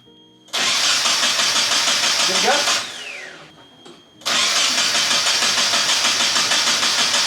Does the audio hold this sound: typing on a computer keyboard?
no